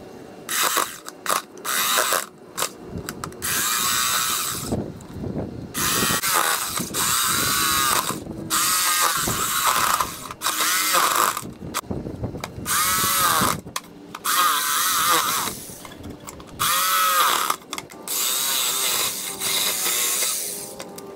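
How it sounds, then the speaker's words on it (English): A power drill whirs in repeated bursts, revving up and cutting out as it bores a pilot hole, loud and close with brief pauses between runs. "drill a pilot hole so we can get the blade in."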